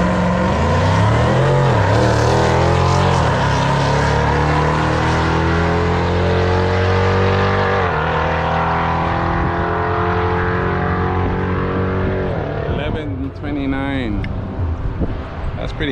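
A 6-second drag racing car runs down the track, its engine a loud, sustained roar whose pitch sweeps and slides as it passes, then fades toward the end.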